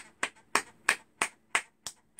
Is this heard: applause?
yes